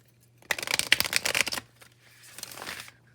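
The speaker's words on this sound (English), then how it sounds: "Go ahead and do a hard shuffle." Tarot cards are given a hard shuffle close up, a dense burst of riffling and flicking followed by a softer, quieter stretch of card shuffling, with no voices.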